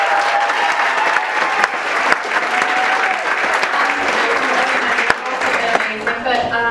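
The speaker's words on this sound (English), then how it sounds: "So we need to give these girls a big round of applause." Audience applause after a girls' rock band performance, a steady full round of clapping with a few sharper claps, sustained throughout.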